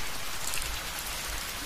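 Rain falls on a road in a steady, even hiss of fairly soft, continuous drops, with no talking.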